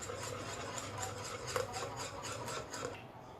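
Patishapta pitha batter is mixed with a spoonful of cooking oil, giving a faint, steady rasping and scraping of stirring in a bowl that continues throughout.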